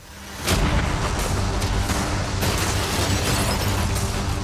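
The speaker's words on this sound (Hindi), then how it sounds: "कैनन्स को तैयार करो।" Cannons fire at a yacht, a sudden heavy boom followed by a sustained broad roar with repeated bursts and pops. Loud and continuous to the end with no voices.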